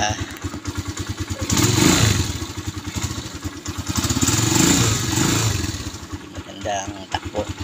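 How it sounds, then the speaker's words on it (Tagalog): A motorcycle engine warms up at close range, its idle swelling into two long revs before settling back, with a voice briefly heard over it. "initan lang natin konti yung motor natin"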